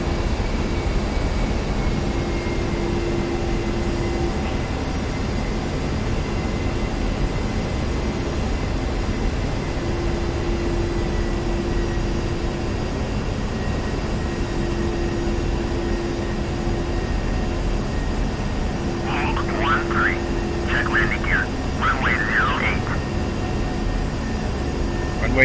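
An aircraft landing in the DCS World flight simulator hums with a steady, loud engine drone throughout, and a few quick chirping beeps sound near the end.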